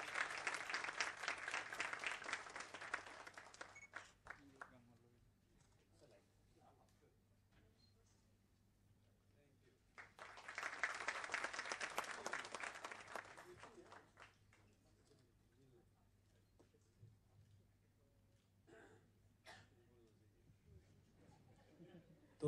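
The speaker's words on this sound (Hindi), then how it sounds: "बहुत जोरदार तालियां होनी चाहिए।" Audience applause at a tribute event for Mohd Rafi, with two bursts of clapping separated by quieter stretches of faint murmuring, room noise and a low steady hum.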